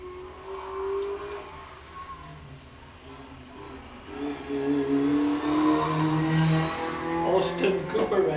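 A Peugeot 106 turbo race car launches at a Caithness Car Club sprint in Golspie, its engine building in a rising whine toward the end, heard at moderate distance beneath a commentator's steady talk.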